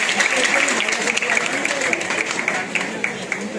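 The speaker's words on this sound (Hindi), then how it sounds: "जोरदार तालियां बजाएंगे इस बार से।" An audience at a 17th Dhanka Day community award ceremony claps loudly and continuously, a dense, steady wash of many hands close to the microphone.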